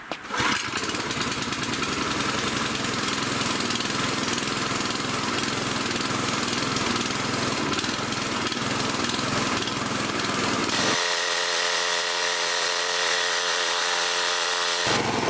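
A damaged gas-engine air compressor runs steadily just after starting, its loud, close, rough engine drone holding even, then shifting to a different, more tonal running note near the end, with no speech.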